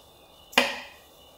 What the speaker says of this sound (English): That noise was the locker engaging.